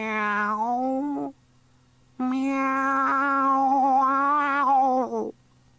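A cat lets out two loud, drawn-out meows close by, the second longer and wailing, with a short pause between them.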